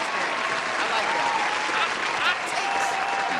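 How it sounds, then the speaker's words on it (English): Applause from a studio audience on a sports talk show, steady and fairly close, with voices talking over the clapping throughout. "Round of applause."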